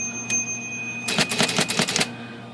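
A sticky, gummed-up IBM Selectric typewriter being serviced gives a single click, then a rapid cluster of sharp mechanical clacks and rattles, close and fairly loud, over a steady electric motor hum.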